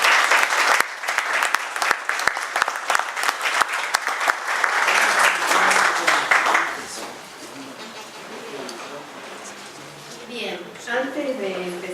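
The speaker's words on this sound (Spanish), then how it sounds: "Así que los recibimos con un aplauso." Audience applause at a book presentation of poetry, loud dense clapping with sharp individual claps for several seconds, then fading into room murmur as a voice begins speaking near the end.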